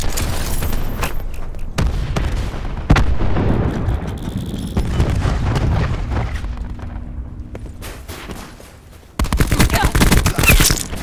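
Cluster grenades going off in Call of Duty: Black Ops 4 multiplayer, a loud rapid burst of overlapping explosions and crackling blasts amid gunfire, fading and then erupting again near the end.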